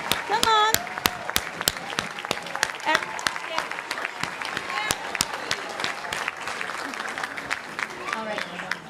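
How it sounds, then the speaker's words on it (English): An audience at a district strings concert applauds student soloists with sustained, dense clapping and sharp individual claps, while people talk and call out over it. "Can we also have a huge round of applause for those of us who are brave enough to come up and solo?"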